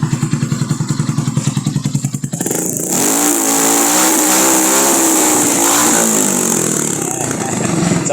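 A 200cc 4x2 farm UTV engine revs hard through a loud exhaust, starting with a rapid idle-like chug before climbing into a sustained, roaring high-rev drone that stays close and dominant.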